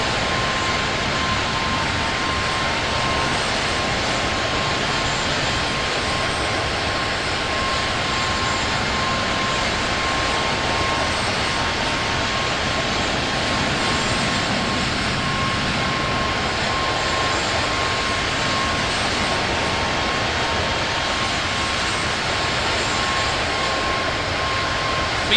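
Steady broadband jet roar of an airliner taking off from JFK International Airport in Microsoft Flight Simulator 2024, a continuous even rush with a faint tonal whine running throughout, loud and unbroken for the whole span with no talking.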